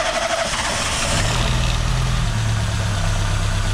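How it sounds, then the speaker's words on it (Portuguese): A Peugeot 206 engine idles roughly on only three cylinders, a loud, uneven low rumble with a pulsing throb that persists steadily throughout, no voices over it. "Ele tá funcionando com 3 cilindros só."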